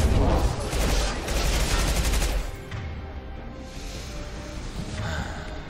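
Sustained heavy gunfire in Mass Effect 2, a dense roar of automatic weapons for the first few seconds that then eases into quieter battle noise, with no talk.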